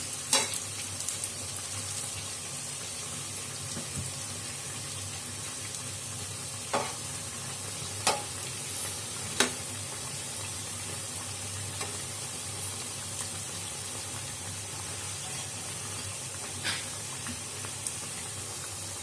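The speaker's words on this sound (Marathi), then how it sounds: "आता आपण हे परतून घेऊया। तेल आपल्याला एकसारखंच ठेवायचे गरम।" Medu vada fry in hot oil, a continuous even sizzle and hiss with a few sharp spatter pops and clinks scattered across the stretch, no voices.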